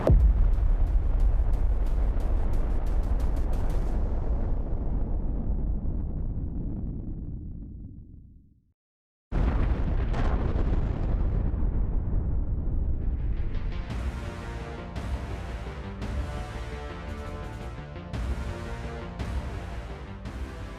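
A GBU-43B MOAB air-blast bomb effect: a massive, deep roaring boom that slowly fades, a moment of total silence, then a second rumbling blast with crackling, rolling debris noise.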